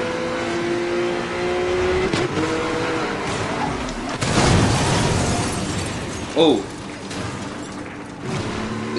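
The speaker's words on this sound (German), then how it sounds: "ich bin gerade dagegen gefahren und mein Auto hat total gecrashed" A car engine in Need for Speed Most Wanted roars steadily, then a loud crunching impact bursts out mid-clip, followed by further scrapes and a short pop as the engine keeps running.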